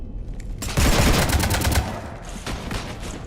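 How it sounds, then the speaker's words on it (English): Rapid bursts of sci-fi gunfire from Mass Effect 3 rattle against a ship, a dense loud volley that swells, eases briefly, then resumes in a second flurry. "You want to stop shooting up my ship?"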